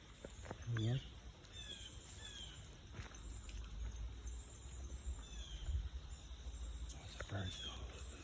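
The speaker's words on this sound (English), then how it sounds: "I think the chickadees and the blue jays are warning of a barred owl duo that's probably up ahead a little bit." Wild birds, chickadees and blue jays, give scattered alarm calls and chirps from the woods by a creek, faint against insect buzz, with a person talking quietly and rustling nearby.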